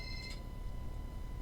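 A telephone rings in the Schizophrenia Simulation video game, a faint, brief electronic ring against a quiet background.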